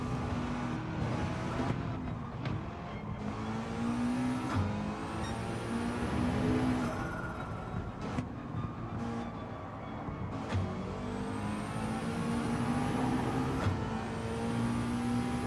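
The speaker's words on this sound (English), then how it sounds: "I have to hear an engine making noise." A McLaren 650S Group 4 race car in Gran Turismo 7 drones along with a continuous, fairly loud engine note that rises and falls as it revs through gear changes, with no voices.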